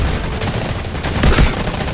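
Grenade blasts and rattling gunfire in the shooter video game Delta Force, a dense continuous barrage with a heavier boom near the middle, loud throughout.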